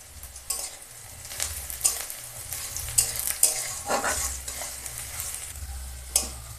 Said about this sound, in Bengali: পেঁয়াজটা একটু লাল লাল করে ভেজে নেব তেজপাতা দিয়ে দিই